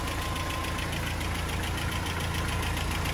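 Land Rover Series 3 engine with a newly fitted PCV valve runs steadily and loudly throughout, a continuous close mechanical drone with a faint knocking edge.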